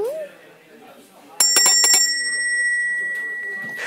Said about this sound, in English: And I suppose this is the school bell?